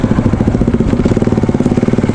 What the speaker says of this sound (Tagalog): Ganda ng motor niya, oh.